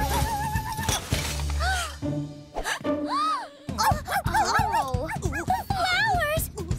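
A cartoon dog whimpers and yelps in a rising, whining series of cries, with a short bark, loud and close, mixed with children's cartoon dialogue and music.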